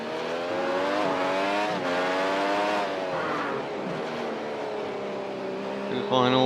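Race car engine lapping Circuit of the Americas in the iRacing sim, a loud high-pitched whine climbing through the gears with shift dips, then a sharp rise at the end, under a commentator's voice.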